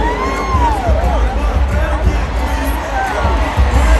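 Women's crowd cheering and whooping at a women's conference session, a loud sustained roar of voices with rising shouts and squeals throughout.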